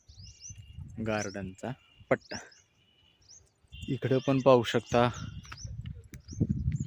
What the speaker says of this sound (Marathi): पक्ष्यांचे चिवचिवाटाचे आवाज सुद्धा आहेत